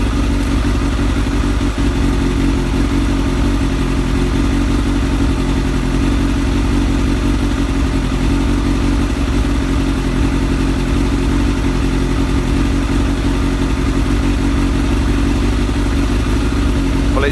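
A Kawasaki ZX7R motorcycle engine idles steadily after a battery check, a loud, continuous close-up rumble with an even mechanical clatter and no clear revving.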